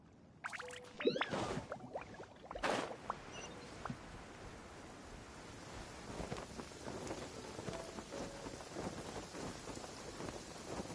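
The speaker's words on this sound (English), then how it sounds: "It's raining again?" Steady rain pours down in the video game Genshin Impact, with rumbling thunder and a few sharp cracks early on, settling into a constant wash of rainfall.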